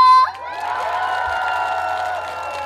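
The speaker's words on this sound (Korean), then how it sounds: "다같이 박수와 함성!" Crowd at a K-Culture expo concert in Cheonan clapping and cheering after a sung note fades, a sustained wash of applause and shouts that stays fairly even and moderately loud to the end.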